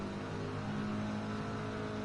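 A car engine in Gran Turismo 7 strains at maximum revs while reversing, a dense sustained engine roar with steady harmonic whine and no pauses, fairly faint and alone.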